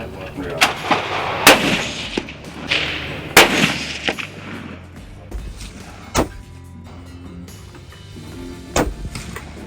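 A Savage Axis 30-06 rifle fires repeatedly outdoors, sharp loud cracks with booming echoes spaced irregularly, with a few fainter distant shots among them.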